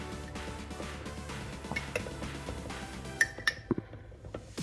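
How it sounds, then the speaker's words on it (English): Oils being stirred in a bowl to make homemade body cream, with light clinks and taps of a utensil against the container that grow sharper and more spaced out toward the end. "just stir it a little bit so the oils are mixed thoroughly and there is no lump"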